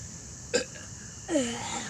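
One short, quiet burp comes from a person during a burping challenge, followed by a brief throaty sound a moment later, all against a faint hiss.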